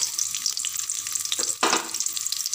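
Small shallots hit hot oil in a pan for an idli mutton gravy, giving a steady sizzle that swells into a sudden loud burst of frying midway, then settles into continuous crackling, with no talking.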